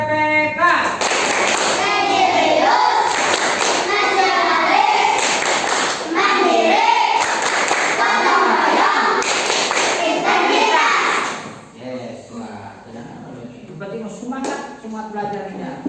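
An elementary school class in Sukamulya performs the Tepuk PPK clapping chant, children's voices chanting together with rhythmic bursts of group clapping for about eleven seconds, then quieter talk follows.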